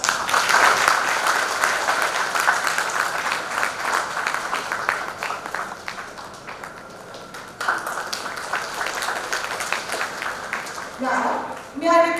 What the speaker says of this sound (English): Students, round of applause.